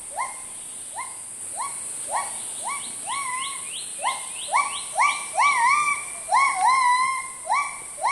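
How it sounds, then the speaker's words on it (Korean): Gibbons in a jungle give a rising series of whooping calls that grow faster and more excited toward the end, heard at a distance over a constant high insect drone. "바로 이 뒤에서 기번들의 울음소리가 지금 들리고 있습니다."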